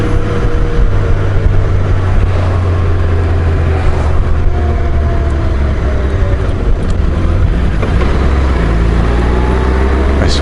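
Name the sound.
Honda Goldwing motorcycle riding and shifting gears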